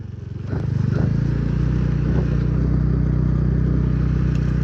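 A motorcycle rides along a road near a river path after an earthquake, its engine droning loud and close with a steady low throb that rises in the first half second and then holds evenly.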